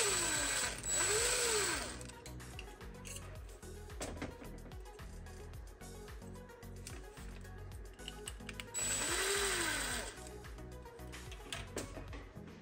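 Small Phillips screws being removed from a Zephyr vent hood, with faint clicking and ratcheting of a screwdriver close by, plus two louder bursts of whirring tool noise.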